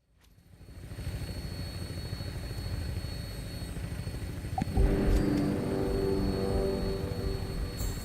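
An aircraft engine in Fallout 76 spins up from silence into a steady droning whir, a sharper clunk midway as the rumble deepens and holds, close and continuous with no talk.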